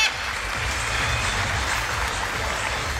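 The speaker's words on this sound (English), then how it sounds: "big applause for Chico!" An audience claps loudly for a performing parrot act on a talent show stage, a dense, continuous burst of applause from start to finish.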